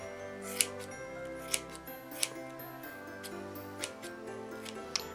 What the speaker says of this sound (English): we're going to take our scissors and we're going to cut all the excess on the sides